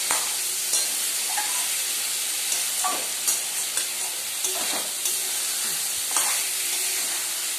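Fish heads fried and stirred in hot oil in a pan, a loud continuous sizzle with occasional scraping stir strokes, close and steady throughout.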